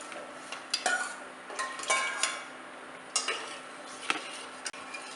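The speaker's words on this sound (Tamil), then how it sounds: "கிளறி கொடுத்துக்கிட்டே இருங்க," A spoon stirs soaked sago pearls through milk in a metal pan, with intermittent light scrapes and clinks against the pan over a quiet background hum.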